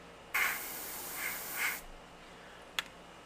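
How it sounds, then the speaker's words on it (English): An airbrush sprays paint into a mixing cup in short, soft hissing bursts, a sustained airy stream that swells twice before cutting off. A single sharp click follows after a brief quiet pause. "I'm gonna spray into one."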